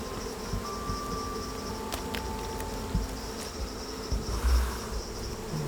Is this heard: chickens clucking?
no